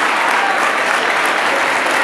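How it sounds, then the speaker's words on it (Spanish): Steady, dense applause from an audience, continuous clapping filling the whole moment without a break. "un fuerte aplauso para mi compañero que está acá"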